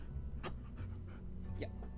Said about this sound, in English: So we got a big dog here helping out.